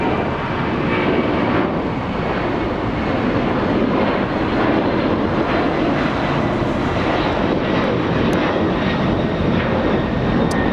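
Boeing 767 jet airliner at Los Angeles International Airport, a steady broadband engine roar that stays loud and sustained throughout, with light wind noise and no talking.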